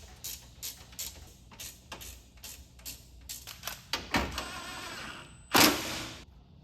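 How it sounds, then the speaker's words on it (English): Ratchet tightening the condenser bolts on a 2004-2012 Chevy Colorado during radiator replacement, a quick series of sharp metallic clicks in short bursts, ending with a couple of louder clunks. "we're going to put these 2 bolts back on."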